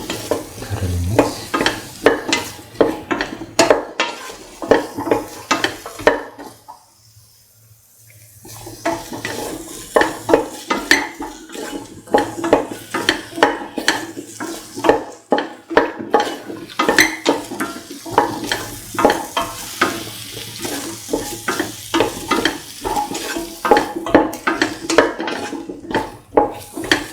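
Garlic potato rice tossed and stirred in a hot pan, a steady run of scraping spatula strokes and light sizzle, close and continuous, with a brief pause partway through and no talking.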